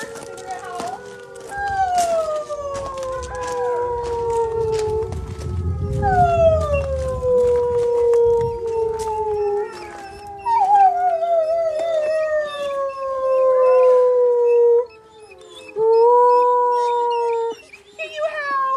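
Canids at an animal facility howl for a long stretch: several rising and falling voices overlap and pass in and out of each other, close and clear, with brief pauses between phrases. A person talks faintly in the background.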